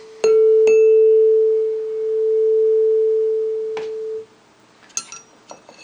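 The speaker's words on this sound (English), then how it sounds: "It takes a couple of seconds for that to wobble in and out of phase together." Two pure, sustained electronic-sounding tones at slightly different pitches last several seconds, slowly swelling and dipping in loudness as they beat in and out of phase, then cut off, followed by faint taps.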